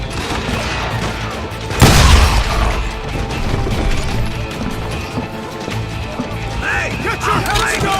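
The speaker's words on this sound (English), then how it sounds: "They're shooting in the street!" Gunfire breaking out in a town street in the Western shooter Call of Juarez: Gunslinger, with a loud crashing burst near two seconds over a steady, busy backdrop of shots and scuffle, voices talking under the action.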